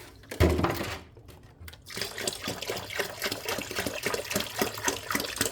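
Distilled water pours steadily into the reservoir of a LetPot LPH Max 4-in-1 hydroponics system, a continuous close splashing trickle with a brief rougher gush at the start, heard alone.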